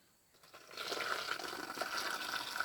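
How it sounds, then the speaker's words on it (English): Hot water poured from a jar over canning lids and rings in a home kitchen, a soft splashing gush that starts abruptly and keeps flowing steadily, faint and close. "pour that over our lids and rings also"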